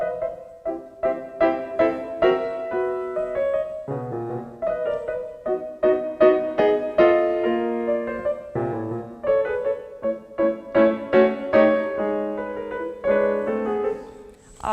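Solo piano plays a Diabelli variation in Ländler style, a lilting dance with a clear melody over rhythmic chords, close and moderately loud, phrase after phrase without pause.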